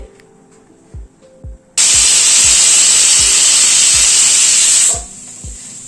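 A pressure cooker cooking mutton on a high gas flame lets out a loud, sustained hiss of escaping steam for about three seconds, with soft rhythmic rattling thumps before and under it.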